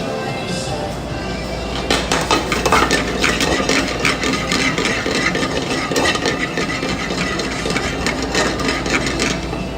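Toasted cumin is scraped in a restaurant kitchen, producing a loud, continuous gritty rasp of utensil strokes against a pan, with busy kitchen clatter around it.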